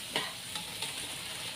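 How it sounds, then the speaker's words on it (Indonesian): A utensil stirs eggplant balado sambal in a pan, giving a few soft scraping strokes over a faint steady sizzle, with no talking. "Kita mau aduk doang, kita mau ratain di sini."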